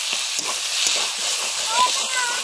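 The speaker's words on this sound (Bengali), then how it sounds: "মশলার সঙ্গে কষে নিচ্ছি। ভাজা বাটা মশলা, জিরে, ধনে, শুকনো লঙ্কা, গরম মশলা" A ground spice paste of cumin, coriander, dried red chilli and garam masala sizzles loudly and steadily in a hot pan, with soft stirring scrapes throughout.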